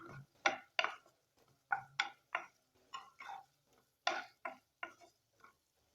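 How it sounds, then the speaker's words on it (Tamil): Capsicum fry being stirred in a pan, a sequence of sharp spoon-on-pan clicks and scrapes in an irregular rhythm, close but fairly quiet, with no talk. "இதை ஒரு நிமிஷம் மட்டும் நல்லா அந்த குடமிளகாயோட சேர்த்து கிளறி விட்டுக்கலாம்"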